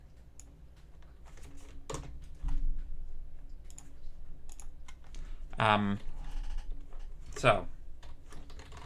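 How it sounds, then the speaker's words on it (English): Rapid clicking keystrokes on a new computer keyboard fill the stretch in uneven bursts, close and crisp, while a person speaks briefly in a couple of short spots over the typing. "If I ever make a mistake typing, I'm just gonna blame it on my new fancy keyboard."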